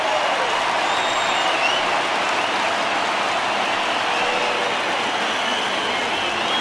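A stadium crowd in the MLB The Show 20 baseball game, Nationals versus Blue Jays, rises into a loud, sustained roar of cheering and applause that holds steady throughout with no breaks.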